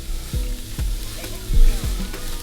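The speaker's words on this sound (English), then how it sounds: "You can hear the sizzling." Oil sizzles and crackles steadily in a frying pan, with a few soft low thumps as food is stirred, close and fairly loud; leftover oil from frying cod, with a few drops of water added.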